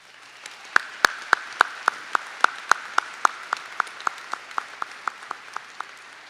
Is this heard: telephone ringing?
no